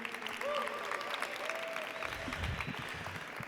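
Applause from an audience at a poetry night, a steady wash of clapping with a few voices and whoops rising over it.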